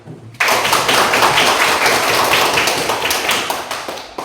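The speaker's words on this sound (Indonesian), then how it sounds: "Baik, tepuk tangan." A class of students claps hands together in a classroom, a sudden burst of dense, steady clapping that starts abruptly and carries on loud and close before tapering slightly at the end.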